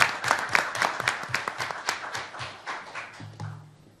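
Audience applause at a welcome event, a modest scattering of individual claps with uneven rhythm, tapering off at the end as a faint low hum or voice emerges.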